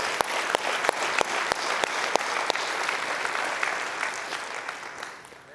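A church congregation claps in steady, dense applause, with sharp individual claps standing out near the start, the whole sound fading gradually toward the end.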